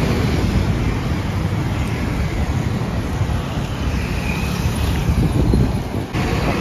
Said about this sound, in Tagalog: Oh wow, ang hangin.